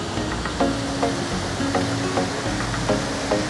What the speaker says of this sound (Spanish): Qué genial esa cascada